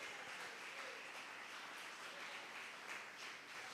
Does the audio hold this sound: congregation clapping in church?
yes